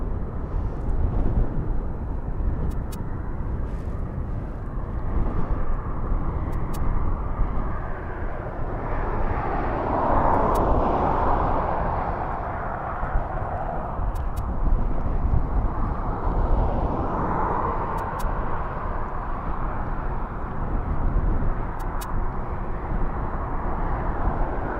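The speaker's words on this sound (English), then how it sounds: "Mixture of the wind and also from the aircraft as well." Aircraft engines roar steadily, mixed with buffeting wind, at an airport. The broad rumble stays loud and continuous, swelling as planes pass, with no talking.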